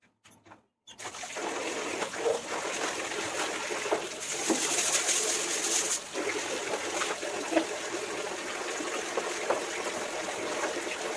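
A bucket of water poured onto an aloe vera plant outdoors gives a steady, continuous splashing rush after a brief silence, while pigeons coo faintly in the background.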